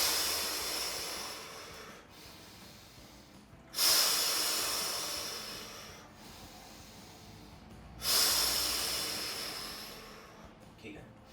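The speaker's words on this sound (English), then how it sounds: "breathe out really loud" Forceful breathing exercise with loud, airy breaths in a slow cycle, two strong hissing surges each fading gradually over several seconds, close and alone.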